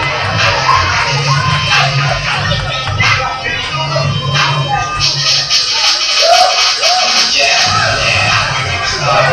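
A wrestling event crowd roars loudly and continuously, with yells and whoops rising over a dense, sustained wash of noise throughout.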